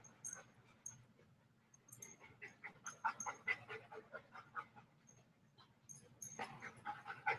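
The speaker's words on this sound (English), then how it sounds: "These are all my daycare dogs." A group of daycare dogs pants rapidly and steadily at close range, the quick rhythmic breaths overlapping from several animals, with a faint whimper now and then and no talking.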